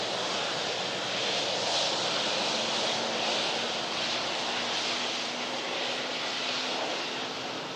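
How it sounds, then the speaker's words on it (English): An airliner with Rolls-Royce RB211 jet engines passes at Manchester Airport, a steady broad roar with a faint whine, held at a constant loudness throughout with no talk. "Rolls-Royce RB211 engines sounding naughty."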